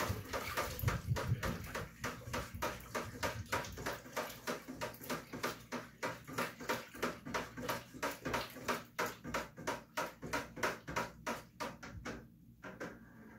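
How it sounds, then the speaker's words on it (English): Butterfly pea tea wine must stirred vigorously in a fermenting vessel, a long run of rhythmic sloshing and knocking strokes, close and steady, roughly two per second, with no talking. "give it a good stir here."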